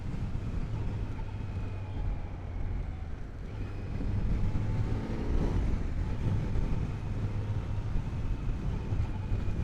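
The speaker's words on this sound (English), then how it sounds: "wow, this engine is absolutely silky smooth." A 2020 Kawasaki Z900 motorcycle engine runs smoothly while being ridden, a steady low hum with wind rush at roughly constant loudness, swelling slightly midway, with no talk.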